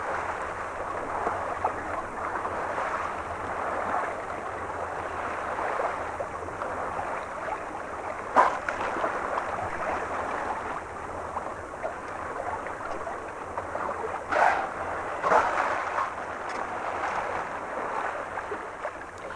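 A small sailing boat under a little brown sail in a strong breeze gives a steady rush of wind and water along the hull, with a few brief knocks and splashes.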